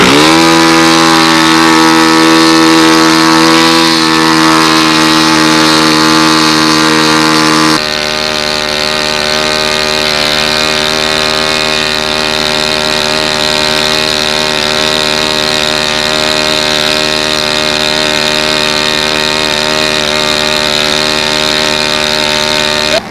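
A Saito 30 engine in a model P-51 Mustang airplane buzzes loudly and steadily at a high pitch, its tone shifting slightly partway through, then holding an even, sustained drone.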